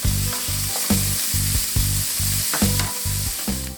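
Extra lean ground beef sizzles steadily in a pot, a constant frying hiss punctuated by regular scraping strokes as it is stirred, close and fairly loud with no voices.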